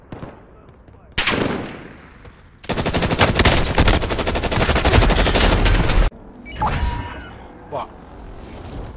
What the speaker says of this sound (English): Under fire here.